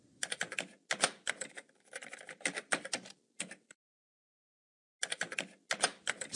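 Rapid typing on a computer keyboard during a banking teller data-entry task, with bursts of close clattering keystrokes, a brief pause of silence, then another quick flurry of keys.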